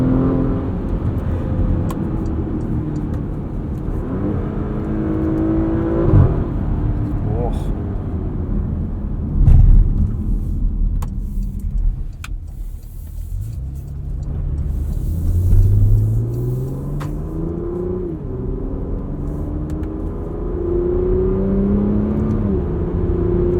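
A 2022 Porsche Macan S accelerating through its dual-clutch gearbox, heard from inside the cabin as a smooth rising engine hum that climbs in pitch and drops with each shift, under road rumble, with no talk.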